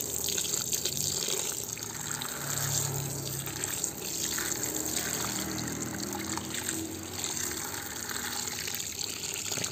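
Water runs and trickles steadily as fine aquarium powder sand is rinsed, a faint continuous splashing with soft sloshing throughout.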